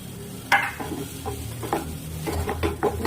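A spoon stirs a khajur pak date mixture mixed with grated coconut in a pan, making soft, close scraping and patting strokes. The strokes come in an irregular rhythm over a low background hiss.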